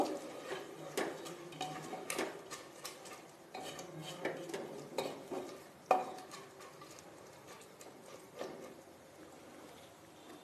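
Rice and water are stirred together in a metal pot, with a quiet series of scraping clinks and knocks from a spoon in an irregular rhythm.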